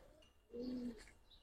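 Giribaz and Afsan Bagha silver pigeons give one soft, low coo lasting about half a second, faint against quiet background noise.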